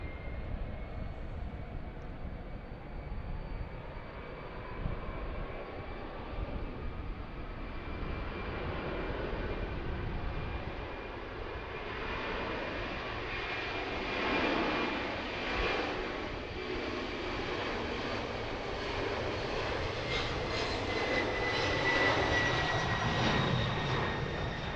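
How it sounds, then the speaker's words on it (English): FedEx cargo jet taking off on runway 31 at Harrisburg airport in the evening, a broad steady engine roar that swells gradually over nearly half a minute, heard from a distance without voices. "FedEx is taking the runway on 3-1 for some reason."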